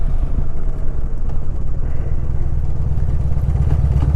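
Older Harley-Davidson Evo motorcycle riding, its engine a loud, steady, close rumble with a rapid pulsing beat throughout and no talking.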